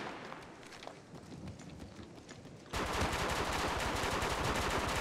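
Sustained automatic gunfire in the mobile battle royale Apex Legends Mobile, a dense rapid burst that starts abruptly midway and keeps going loud after a quieter stretch of distant shots and movement.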